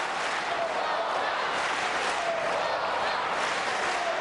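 A dense crowd at a table tennis match applauds loudly and continuously, a steady wash of clapping with no pauses.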